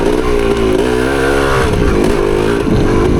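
A 1975 Yamaha DT250 trail motorcycle is revved hard and close, its engine pitch climbing and then falling away in a loud, buzzing roar.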